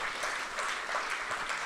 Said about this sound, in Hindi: तो तालियां तो थोड़ी होनी चाहिए।